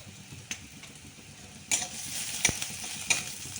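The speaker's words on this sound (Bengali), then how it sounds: "এবারে পেঁয়াজটা একটু ভাজা ভাজা হয়ে গেছে" Onion fries in a kadai, giving a continuous close sizzle with a few sharp scraping stirs and clicks of a spatula against the metal pan.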